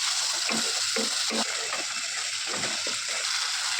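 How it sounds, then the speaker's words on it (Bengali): A spice paste with sour yogurt being sautéed in a pan gives a continuous hissing sizzle, broken by soft stirring strokes and faint splattering, close and steady throughout. "কষাচ্ছি তোমরা একটু ভালো করে দশ মিনিট ধরে ভালো করে কষিয়ে নেবে"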